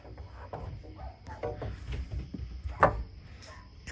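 Knocking on an old 1970s garage pegboard gives scattered dull thumps and taps, with one sharper knock near the end, faint against a quiet room with a steady hum.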